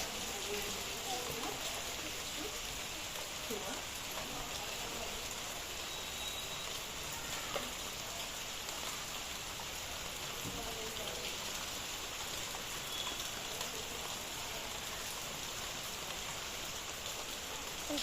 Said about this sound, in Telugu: ఆ వర్షం కూడా ఫుల్ కొడుతుంది